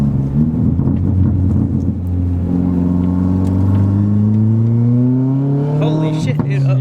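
A BMW E36 M3 engine accelerating hard, a loud close rumbling note climbing steadily in pitch through the revs, with a brief harsher burst near the end.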